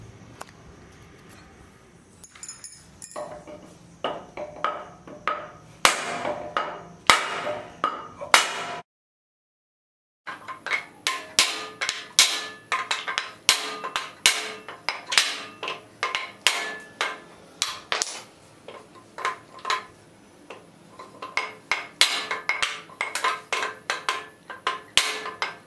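Hammer blows striking a wooden plank to knock apart the hydraulic cylinder parts of an office chair, a dense run of sharp, loud knocks with a short pause midway, close by.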